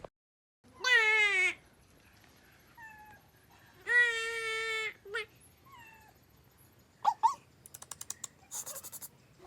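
A pet cat meows several times in a quiet home, two long drawn-out calls followed by shorter mews, with faint clicks and tapping near the end.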